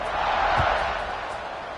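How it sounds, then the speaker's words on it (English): A football stadium crowd buzzes after a score, a broad distant roar that swells and then eases slightly, steady and without clear voices. "this crowd is buzzing after that last score"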